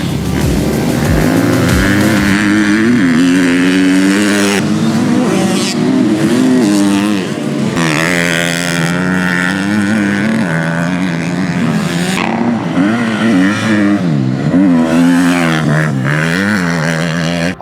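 A 2022 KTM 250SXF motocross bike rips around a dirt track, its high-pitched four-stroke engine loud and close, revving and shifting through rising and falling pitch sweeps with no letup.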